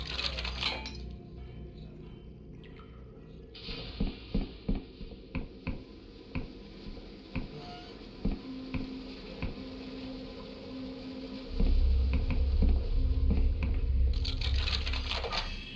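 Lockpicking a lock in the video game Dread Delusion: a run of small, sharp metallic clicks and ticks at an uneven pace, fairly close, over a quiet game ambience that swells into a low rumble near the end.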